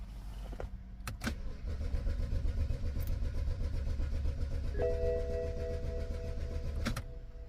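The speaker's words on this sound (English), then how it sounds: "Car won't start." A 2009 BMW X5 E70 with a fuel delivery fault cranks steadily for several seconds without catching, a loud, even whirring churn from the starter and engine between sharp clicks, then a tonal electrical whine before it stops.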